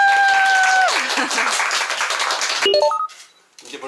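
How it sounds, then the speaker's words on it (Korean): An audience applauds a company CEO at a launch and send-off ceremony for VoiceCaddie's 2019 T6 and GL1 golf products, steady crowd clapping that fades out with a few bright pinging tones near the end. "김준혜 대표님 큰 박수로 한번 부탁드립니다."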